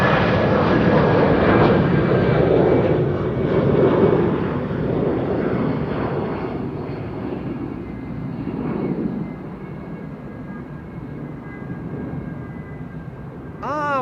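Finnair Airbus A350 airliner climbing out after takeoff from Amsterdam Schiphol, a steady broad engine roar that slowly fades as it moves away.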